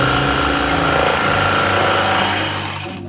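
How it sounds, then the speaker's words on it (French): A jigsaw cuts through a floor plank in a house renovation, a loud, continuous buzzing motor with rapid blade chatter that winds down at the end. "Tu découpes à la scie sauteuse, moi je maintiens."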